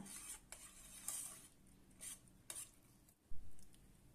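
A spoon stirs lentils with asafoetida and turmeric in a metal pot, giving soft scraping strokes and several sharp clinks against the rim, quiet and close.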